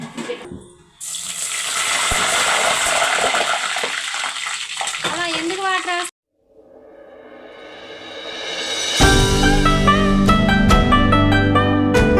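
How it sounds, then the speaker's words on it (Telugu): Water is poured into a hot pan of homemade ghee, giving a loud rushing hiss and bubbling that stops briefly and then returns. Voices can be heard over it. "కొంచెం వాటర్ చొక్కేయాలి"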